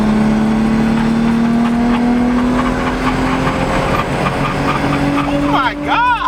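A right-hand-drive Toyota Mark 2's engine revs hard and climbs steadily in pitch, loud and close, with a brief tire squeal near the end.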